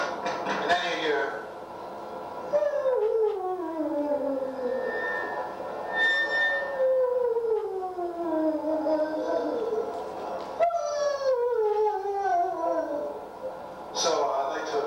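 A dog outside a door howls and whimpers in the early morning, giving a series of long, mournful wails that slide downward in pitch and repeat several times.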